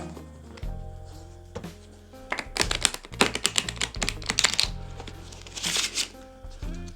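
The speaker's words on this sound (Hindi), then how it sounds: "अब हम इन दोनों डेक को भी आपस में मिक्स कर देंगे" Two decks of playing cards are shuffled together, giving rapid riffling and tapping bursts in a few close flurries with short pauses between, no talk.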